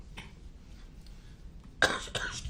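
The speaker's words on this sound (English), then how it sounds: "excuse my cough" A man coughs during a live courtroom trial, one harsh burst near the end followed by a second rougher cough, close and loud against quiet room tone.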